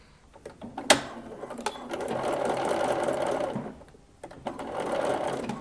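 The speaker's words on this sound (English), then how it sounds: "I'm gonna just do a little stitch to hold it together." A sewing machine stitches elastic on a slip, whirring close in two steady runs separated by a brief pause, with a sharp click at the start.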